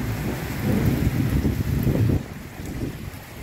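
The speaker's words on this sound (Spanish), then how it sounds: "Miren qué bonito está lloviendo." Rain falling outside a home in a residential street, a steady broadband wash loud and close to the microphone with gusty wind buffeting, continuous throughout with no talk.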